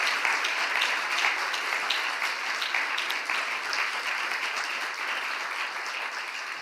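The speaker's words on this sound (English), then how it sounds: "can we please give Professor Sainath another round of applause for a wonderful talk" Steady applause from an audience at a spiritual gathering after a talk, dense continuous clapping holding at an even level throughout before easing slightly at the end.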